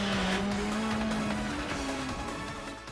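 An anime race car drifting on Initial D's mountain pass, its tires squealing in a loud, sustained, wavering screech over a roaring engine that fades slightly toward the end.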